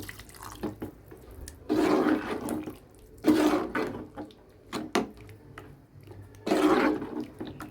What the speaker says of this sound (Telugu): ఇది మనకు ఉడకాలి కాబట్టి కొంచెం నీళ్ళు వేసుకుందాము.